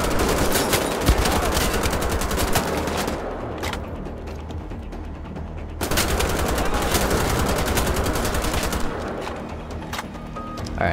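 Sustained automatic gunfire from Wolfenstein The Old Blood rattles in dense, rapid bursts, loud and close, with a short lull partway before the shooting resumes just as heavily.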